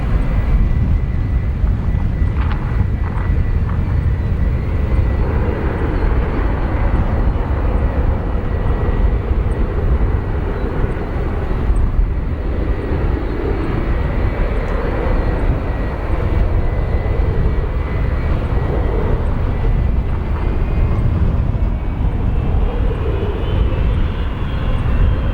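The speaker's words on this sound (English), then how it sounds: "We're getting a nice look at our United 757 here, 20 years old with the new Evo blue livery for United" A 20-year-old United Boeing 757 airliner at Chicago O'Hare airport gives off a continuous loud engine roar with broadband rumble and a steady whine, heard close and unbroken for the whole stretch, with some wind buffeting the microphone.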